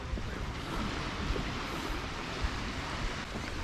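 Calm sea waves washing onto the sandy shore at Jesolo beach, a steady soft surf rush with wind noise, fairly quiet and continuous with no talking.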